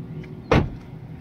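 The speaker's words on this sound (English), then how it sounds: "Close the trunk." Trunk of a 2017 Ford Focus SE slammed shut, a single short thump standing alone against quiet background.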